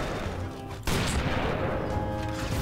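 Gunfire in the Family Guy multiverse video game rattles in a dense, loud burst of rapid shots that continues almost without pause after a brief lull.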